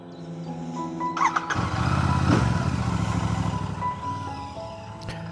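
A Royal Enfield Super Meteor 650 motorcycle starts and pulls away, its engine swelling to a steady, fairly loud rumble that eases slightly as it rides off, with a brief clatter near the start.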